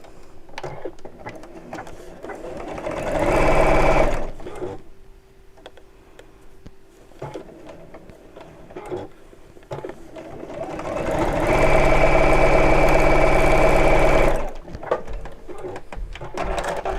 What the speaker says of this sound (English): pull the 2 sides of the opening away from each other and sew straight across to